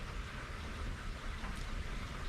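Steady rain falls in a dense, continuous hiss with no breaks, moderately loud and even throughout, with no voices present.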